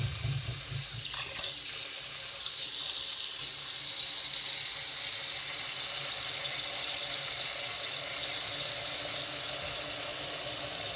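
Tap water gushes steadily into a cooking pot in a home kitchen, a continuous close hiss and splash with a brief louder surge near the start, no talking.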